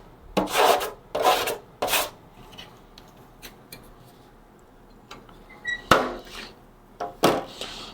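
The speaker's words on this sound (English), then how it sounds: "And I'll just spread this out with a putty knife." Putty knife spreading solder paste across a stencil over a circuit board's solder pads, a series of short scraping strokes, three quick swipes, a pause with faint rubbing, then two more close, crisp rasps.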